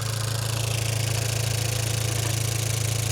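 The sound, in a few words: car engine idling with valve train clicking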